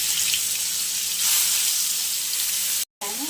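Chopped onion and green chilli dropped into hot oil with cumin for a Maharashtrian onion-garlic thecha, giving a loud, continuous close sizzle that briefly cuts out near the end.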